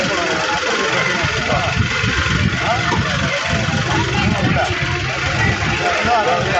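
A vehicle engine rumbles steadily and loudly on a road where pilgrims walk to Velankanni, a constant mid-pitched drone with rough vibration, while someone talks over it throughout.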